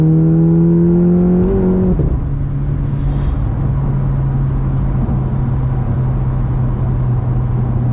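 A 612 bhp Volkswagen Golf R accelerates hard in second gear with all four wheels spinning. The engine roars loud and close, its pitch climbing before settling into a sustained, heavy drone.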